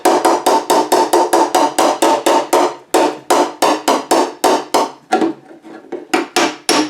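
Rapid, close hammer strikes ring out on a dolly held behind a dented lower passenger-side fender of a 1963 Chevrolet C10, a steady run of bright metallic taps with a short pause and a few softer, irregular hits near the end.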